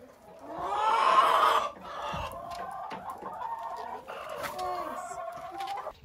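Backyard chickens cluck close by, a loud burst at the start followed by softer, continuous clucking and murmuring from the flock, with possible speech mixed in.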